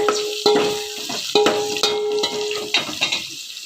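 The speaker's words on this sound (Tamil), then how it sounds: "பூண்டு வெங்காயம் நல்லா பொன்னிறமாக வந்து வதங்குற அளவுக்கு நம்ம அதை வதக்கிறோம்" Garlic and onions sautéing in a pan for a fish curry, with steady frying sizzle and repeated sharp clicks and scrapes of a spoon stirring against the vessel, close and moderately loud.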